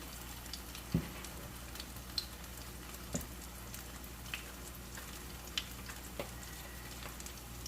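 Food sizzles faintly and steadily in a pan, a low, even fry broken by a few soft, evenly spaced ticks and pops, heard close up with no one talking.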